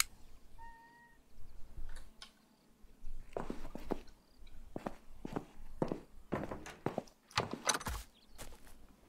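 In the video game Animal Shelter, a brief, faint cat meow near the start, then a run of soft footsteps and light thumps. No one speaks.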